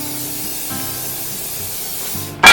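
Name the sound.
cooking oil spray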